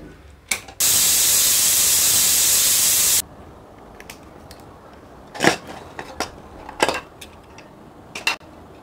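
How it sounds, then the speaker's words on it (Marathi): A pressure cooker of masala khichdi lets out one loud, continuous hissing whistle lasting a couple of seconds, followed by scattered close clatters and knocks of kitchen utensils. "आता कुकर बंद करून त्याला 2 शिट्या काढून घेऊ"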